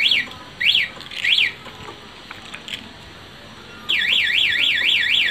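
A motorcycle security alarm sounds three short rising-and-falling electronic chirps, then breaks into a continuous, rapid warbling wail, loud and close.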